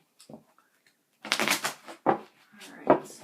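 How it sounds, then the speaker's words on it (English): A tarot card deck shuffled by hand in a few quick riffling bursts, close and fairly loud, with short pauses between them. "Let me get one more good shuffle."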